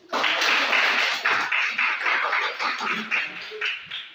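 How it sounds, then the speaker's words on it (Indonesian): A classroom gives a short round of applause, a burst of hand claps that starts loud and then fades away over a few seconds. "Berikan aplaus dulu."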